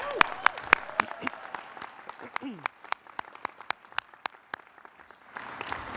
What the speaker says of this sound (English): I'm applauding to say congratulations on officially graduating once again